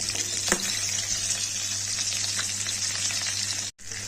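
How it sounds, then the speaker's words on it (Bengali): A hilsa fish head sizzles steadily in hot oil with crackling spatters, continuous and close, with a low hum underneath. "আমি ইলিশ মাছের মুড়োটা ভেজে নিচ্ছি।"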